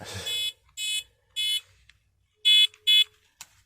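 A series of buzzy electronic zaps from a custom-made toy ray gun in short bursts, five or six blasts with uneven gaps and a faint blip between.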